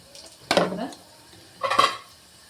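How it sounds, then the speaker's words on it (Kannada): Tempering for dal sambar sizzles in a pan in two short bursts, each a hissing splash of hot oil and spices that quickly fades, with a quiet pause between them. "ಒಗ್ಗರಣೆ ಕೊಟ್ಬಿಟ್ರೆ"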